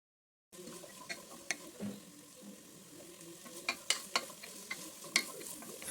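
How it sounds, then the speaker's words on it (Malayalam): Vegetables (capsicum, green peas, cabbage, green chilli) and egg sizzle in a pan for fried rice, with a steady fry under repeated sharp scraping and clacking stirring strokes, close and fairly loud. "ഉപ്പും പെപ്പർ പൗഡറും ചേർത്ത് ഫ്രൈ ചെയ്തെടുത്തതാണ്"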